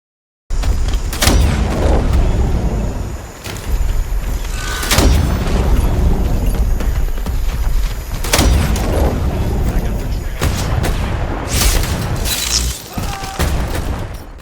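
The Shock Gauntlet fires shock blasts in a combat video game as several loud, sharp bursts at irregular intervals. They sit over a dense, continuous roar of battle noise and effects.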